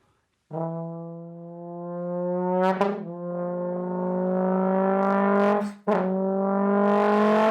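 A trombone imitates a car engine, its brassy tone holding and sliding upward like revving, with two sharp breaks as if shifting gears.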